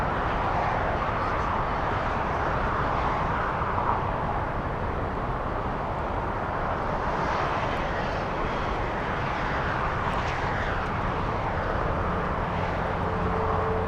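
A Southwest Boeing 737 landing on runway 25 right at Los Angeles International Airport, a loud, steady broadband engine roar that holds through the whole stretch, with no clear voices.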